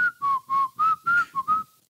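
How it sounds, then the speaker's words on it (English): A person whistling a short melodic phrase of about seven clear, evenly spaced notes, close and loud with no talk. "There's just something creepy about whistling."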